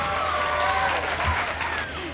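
Steady applause from an awards show audience, a dense wash of clapping that holds at an even level throughout.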